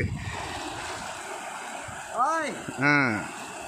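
Water rushes forcefully at a dam in a steady, broad roar that fills the whole clip, with two short rising-and-falling vocal calls or whistles cutting through near the end.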